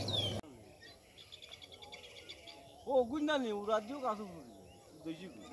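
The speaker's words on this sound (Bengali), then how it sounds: "কিছু হইচই আছে ওই যে পাখিদের হইচই" Birds chirp and call in quick, scattered bursts at moderate distance, with someone talking over them, outdoors near farmland in Shamshernagar.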